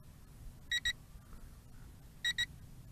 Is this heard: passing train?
no